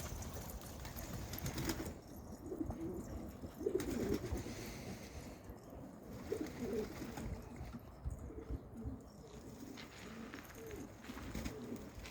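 A flock of pigeons coos close by in repeated soft, low calls under faint background noise.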